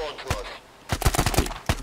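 Gunfire in the tactical shooter Thunder Tier One, with a few single shots early on, then a rapid cluster of sharp, close reports toward the end, mixed with talk.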